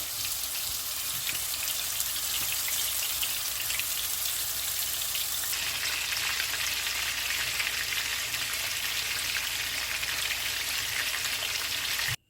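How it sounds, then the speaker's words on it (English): Continuous loud sizzling and crackling of meatballs frying in hot oil, dense and steady throughout with no voices. "I'm gonna go ahead and put them in the oil that it's frying"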